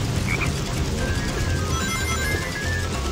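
Frogs croak steadily over a dense wash of forest ambience in the Frog Forest stage of Sonic Heroes. The calls repeat continuously and sit fairly close, with no talk over them.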